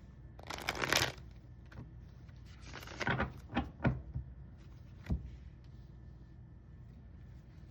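Tarot cards from a Love Oracle deck being shuffled by hand, with a loud riffling burst near the start, a second cluster of softer riffles and taps midway, then a faint tap over a quiet room.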